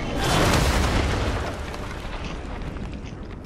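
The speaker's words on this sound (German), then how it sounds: "Da kommt eine Rakete" A rocket blast booms out in Fortnite, a loud, broad explosion that swells in the first second and then decays into a long rumbling tail, with no voices over it.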